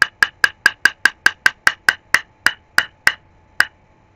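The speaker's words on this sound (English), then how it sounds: "You just put it in the lid, tap the rest out" A makeup powder container is tapped against its lid about fifteen times, giving sharp, close, hard clicks in a quick even rhythm that slows and spaces out toward the end.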